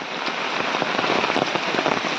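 Heavy rain pours down steadily, a dense, loud hiss of drops drumming on a surface with no voices.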